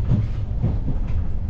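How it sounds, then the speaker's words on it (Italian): A train rolls past with a loud, continuous low rumble and faint rhythmic clatter, heard close by and without speech. "Guarda dove passa il treno."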